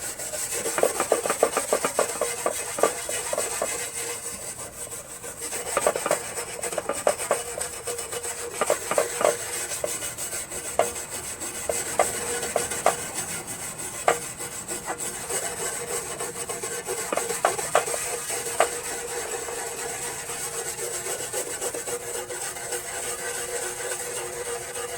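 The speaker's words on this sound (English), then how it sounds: "Bristle brush should be easier." A bristle brush scrubs hard against a metal part from a single-stage snow blower, making loud, rhythmic rasping strokes in bursts close up, which fade to a steadier rubbing toward the end.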